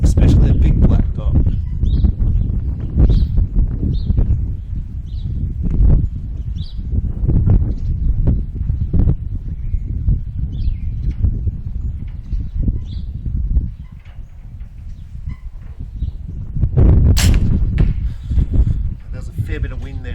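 Wind buffets a microphone at an outdoor archery range, making a continuous low rumble that swells and fades, with a stronger gust near the end and faint bird calls in the background.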